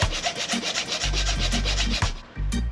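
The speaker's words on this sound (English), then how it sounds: "Simple hacksaw." Hacksaw cuts metal fin box bolts to length with quick rhythmic back-and-forth strokes, close and fairly loud, with no voices.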